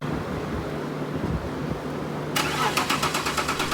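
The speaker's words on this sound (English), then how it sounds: "it was time to start the engine" A BMW E39 fitted with a swapped-in 3 liter engine cranks under a low steady hum, then catches and fires up with a sudden burst, settling into a rough, pulsing idle nearby.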